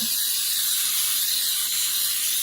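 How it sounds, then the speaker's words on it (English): A steady, close hiss of aerosol cooking spray coating a 13 by 9 sheet cake pan runs continuously and evenly from start to finish. "we're going to spray our 13 by 9 sheet cake pan"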